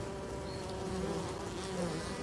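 Honey bees buzzing at the hive during an orientation flight, when the first pollen comes in, a steady, dense insect drone that holds at an even loudness throughout.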